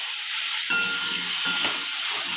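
Cut potatoes and ridge gourd dropped into hot oil with frying cumin, setting off a loud, steady sizzle and hiss that flares slightly as pieces hit the pan, close and continuous.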